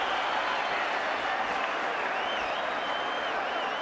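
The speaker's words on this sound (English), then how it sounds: "Crowd on their feet in the Staples Center" Boxing crowd cheering and applauding at the Staples Center after a knockdown-filled round, a dense, steady roar of clapping and shouts that fills the arena without a break.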